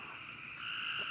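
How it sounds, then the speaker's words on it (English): Frogs croak after a big rain, a steady, continuous chorus at moderate distance with no voices over it. "Those are frogs."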